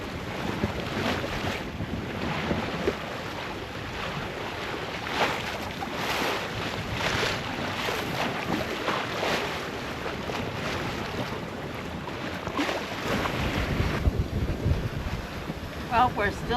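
Wind rushing over a sailboat under way at sea, a steady gusty roar with water wash and microphone buffeting, swelling in places, no clear voices.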